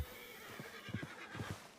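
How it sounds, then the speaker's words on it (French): A horse neighs in a quick, shaky whinny, fairly faint and distant, with a few soft thuds underneath. "Il y a des chevaux partout ici"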